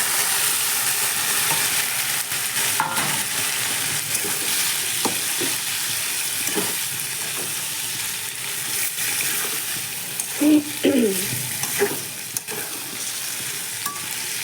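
Sliced onions and potatoes fry in a pan, with a steady sizzle and a spatula scraping and stirring through them in uneven strokes, close and alone with no talk.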